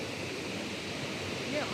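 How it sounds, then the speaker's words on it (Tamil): Floodwater pours over the spillway gates of a dam in Kilinochchi with a steady, loud, broadband rush. A faint voice briefly sounds near the end. "ஏன்னா தண்ணி மேலால் கொஞ்சம் பாயுது பாருங்கள்"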